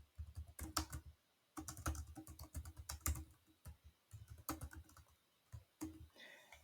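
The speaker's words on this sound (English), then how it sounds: "right here, we might type in follow us or whatever you want to choose" Rapid clicking on a computer keyboard comes in close, quick bursts of keystrokes separated by brief pauses, with no voices.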